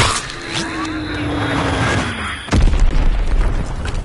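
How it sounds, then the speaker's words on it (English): A heavy Azon bomb blast in a video game: a sudden deep boom midway lands over a steady engine-like drone and rumbles on loudly to the end. "Azon bomb mission underway."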